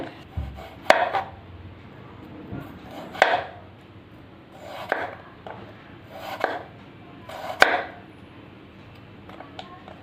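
A knife slices potatoes into thin rounds, giving about five crisp, close cuts spaced evenly over several seconds with quiet pauses between strokes.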